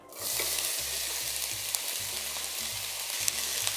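Finely chopped onion frying in olive oil in a large pan over medium heat, a bright steady sizzle that swells in at the start and holds, over a faint low hum, no voices.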